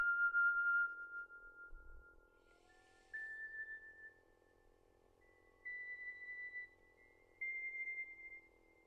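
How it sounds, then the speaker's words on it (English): Soft synthesizer tones from the GEMClub Equinox software synth play in a sparse melody, each note trailing off into quieter repeating delay echoes, with no voices. "We have some delay added to it."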